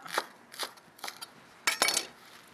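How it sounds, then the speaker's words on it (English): Romaine heart or crisp iceberg lettuce being shredded with a knife, four crisp cutting bursts in an uneven rhythm, close and moderately loud, the last burst longer, with no voices. "Then we're going to shred up a little lettuce for crunch"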